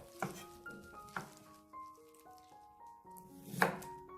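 A knife slicing through white radish on a board, three distinct crisp cuts spaced apart, close and clear over soft background music.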